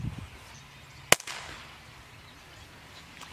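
A small rifle fires a single CB22 round outdoors, one sharp close crack followed by a faint fading tail, with quiet ambience before and after.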